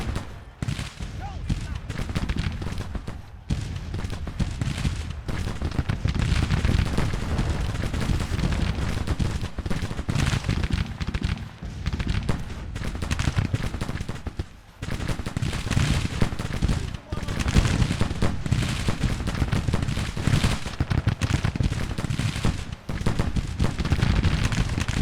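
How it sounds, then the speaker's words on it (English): Civil War rifles fire in Grand Tactician: The Civil War, dense volleys and scattered crackling shots rolling on continuously at close to middling distance, with a brief lull partway through. "more of those rifles firing"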